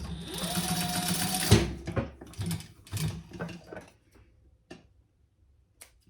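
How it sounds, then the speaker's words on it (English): A sewing machine stitches along the bottom of a crossbody bag, whirring steadily for about a second and a half before stopping, followed by soft handling clicks and taps nearby. "I'm just going to baste the bottom close."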